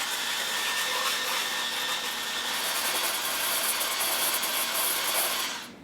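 An electric whisk beats egg whites for a grain-free keto granola, making a loud, continuous high whir at close range with no talk. The whir holds steady throughout and then tapers off at the end.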